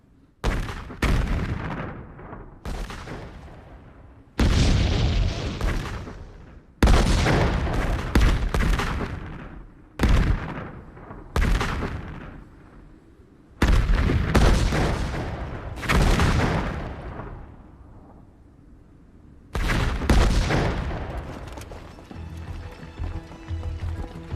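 Heavy artillery and gunfire in a war film about the Battle of Shangganling thunder in a series of loud booming blasts, each followed by a rumbling, fading tail before the next strike.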